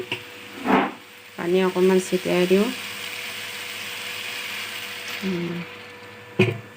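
A curry of water hyacinth and potato sizzles steadily in a pan after a little water is sprinkled in, a soft continuous hiss under short bursts of someone talking.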